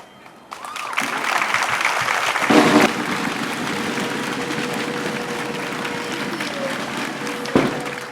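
An audience gives a performance by an 11-year-old singer a standing ovation, steady applause filling the room for several seconds, with a brief louder swell of clapping and cheering near the start and a sharp burst toward the end.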